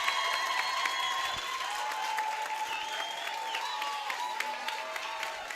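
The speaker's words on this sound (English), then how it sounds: "a huge round of applause" Sustained applause from an audience at a business workshop and expo in Mthatha as an award winner is announced, steady broadband clapping filling the whole stretch, with a voice faintly audible over it.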